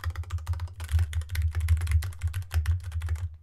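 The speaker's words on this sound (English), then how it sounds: "If I'm typing on a keyboard" Steady, fast typing on a computer keyboard sitting on a desk, a stream of sharp clicks and clacks with brief gaps over a constant low hum, close and clear with no one talking.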